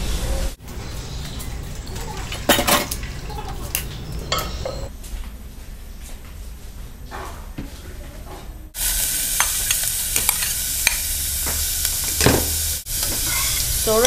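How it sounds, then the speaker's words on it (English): Chopped onions sizzle and fry steadily in a saucepan as they brown, with occasional scraping and stirring clatter; the hiss grows louder partway through. Close and continuous, no talking. "right now I'm cooking my onions till it's nicely brown"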